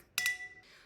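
Two quick glass clinks in a toast, bright and close, followed by a short fading ring.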